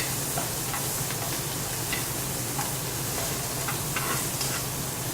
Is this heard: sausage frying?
yes